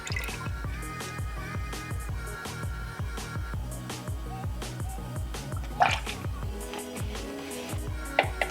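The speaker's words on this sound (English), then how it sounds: "the coolant did go down, so I'm gonna add some more" Coolant poured from a bottle into the radiator of a Nissan Skyline R32 fitted with a Mishimoto radiator, a steady glugging, dripping liquid flow with rhythmic bubbling, close up and moderately loud, with a couple of brief knocks near the end.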